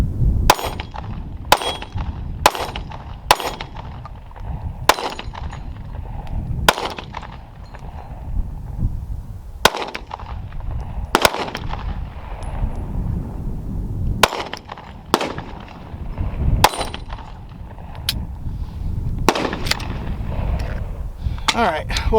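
Glock 43X MOS pistol firing a string of sharp, loud gunshots at uneven intervals, each followed by ringing echo, outdoors at a range with steady background noise between shots.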